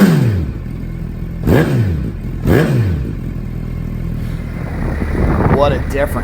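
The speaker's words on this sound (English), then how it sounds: "let's hear that CT Series Brock's Performance exhaust system rumble" A Suzuki Hayabusa motorcycle fitted with a Brock's Performance CT Series exhaust rumbles at idle, then blips the throttle in two sharp revs, each rising and falling quickly, before a final series of quicker revs. The engine sounds close and loud.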